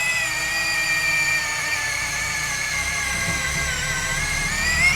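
A Vendoz cordless screwdriver drill fitted with a 25 mm fast cut bit runs continuously at speed 1, a steady high-pitched motor whine with layered harmonic tones and a slight rise in pitch near the end.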